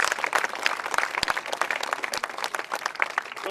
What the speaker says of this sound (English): please give a round of applause again for the Wong Shun Kung Fu Lion dancers for their amazing performance